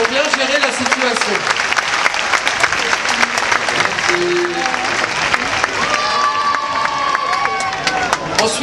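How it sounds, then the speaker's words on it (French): An audience at the Nuit des Hits 2014 concert applauds the technicians, with dense continuous clapping and some cheering throughout. "Je pense qu'on peut applaudir les techniciens qui sont ce soir avec nous qui ont bien géré la situation."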